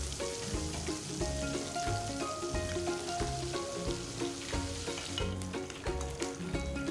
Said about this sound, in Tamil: இப்போ கடைசியாக ரெண்டு மீனையும் ஃப்ரை பண்ண ஆரம்பித்தாச்சு.